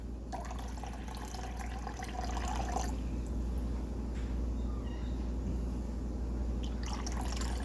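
Seawater poured slowly through a filter into a jug, a soft continuous trickle and dripping of liquid close by, with a low steady background rumble and no speech.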